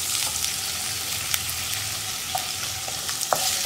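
Cut potatoes frying in vegetable oil with cinnamon and cloves, a steady close sizzle with occasional scrapes and clinks of stirring, no voices.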